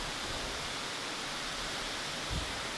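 Steady broadband roar of Beaver Creek Falls, an Oregon waterfall that can be walked behind, heard as a constant loud rush of falling water with no voices.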